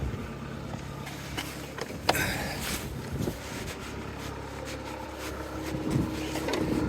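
A car engine runs at a smooth, steady idle without knocking, a low even hum with faint rattling textures, heard up close and fairly quiet.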